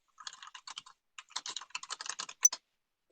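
Computer keyboard typing in quick bursts of close, crisp key clicks, clustered in short runs with brief gaps and a slightly louder final keystroke, alone in a quiet room.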